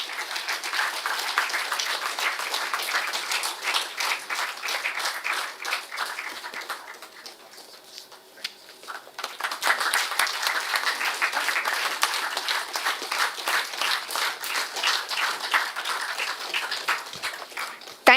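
Sustained audience applause fills a hall at a college student induction valedictory function, dense clapping that dips briefly midway, then swells again and carries on strongly to the end.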